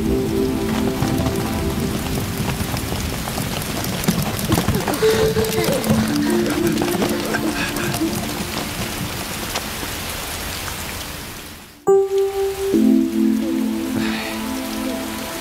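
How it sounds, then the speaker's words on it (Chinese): Steady rain falls and patters on surfaces throughout. A sharp dropout near the end is followed by louder, closer rainfall, with a voice or tonal sounds faintly mixed in. "呀，下雨了。"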